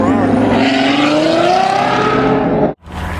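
A Ferrari roars past on a mountain canyon road, a loud sustained engine note climbing steadily in pitch before cutting off abruptly, then resuming briefly; nearby voices are faintly mixed in.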